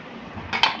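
A metal lid set onto a cooking pot in a home kitchen, giving a short clattering clink followed by a brighter metallic knock, close and alone.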